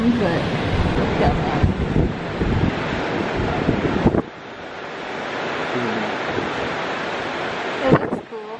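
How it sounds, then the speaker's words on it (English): A strong, cold wind roars steadily into the microphone while big waves crash against a pier, a loud, continuous rushing that drops briefly and then builds again, with no talking. "Yeah, there's some big waves. It's a cold wind, but go."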